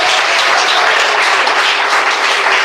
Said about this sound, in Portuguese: E mais palmas glorificam o Rei Jesus.